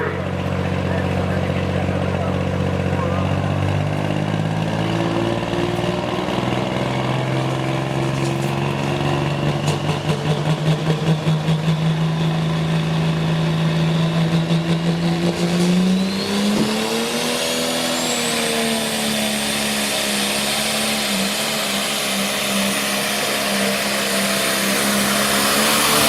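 Turbo diesel John Deere tractor at a tractor pull, its engine droning loudly and continuously with a rising whine as it labors down the track, an announcer talking over it.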